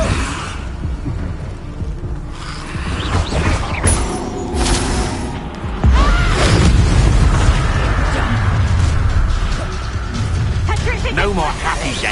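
Deep booming spell blasts from the Bombarda and Confringo explosion spells in the Hogwarts Legacy video game, several loud thuds rolling out over a dense battle mix while voices speak.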